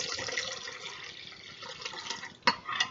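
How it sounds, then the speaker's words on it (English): Cold water pours from a cup into a snack mixture, a steady close splashing trickle with a sharp burst near the end. "So now I'm going to add in my cup of cold water."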